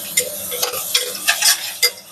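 Prawns sautéing in a hot pan for biryani, with a soft sizzle underneath and a series of sharp metallic scrapes and clinks as a spoon stirs them, roughly five strokes, close and clear.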